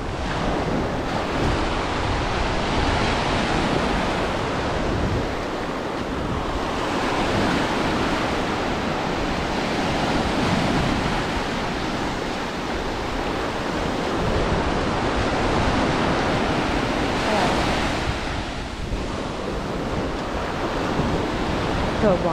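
Steady roar of ocean surf washing onto a beach at Delray Beach, South Florida, with gusts of wind buffeting the microphone throughout; no voices.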